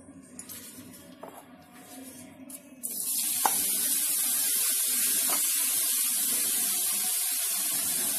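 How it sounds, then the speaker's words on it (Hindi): Grated carrots hit hot desi ghee in a pan and break into a loud, steady sizzle that holds to the end after a quieter start. "यहाँ पर मैंने 3 चम्मच देसी घी लिया है और इसमें मैं गाजर डाल रही हूँ जो हमने कद्दूकस करके रखे हुए थे"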